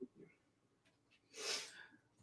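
A person sneezing once, a short, sharp burst near the middle of an otherwise quiet moment, faint and slightly away from the microphone, with a soft breath just before it.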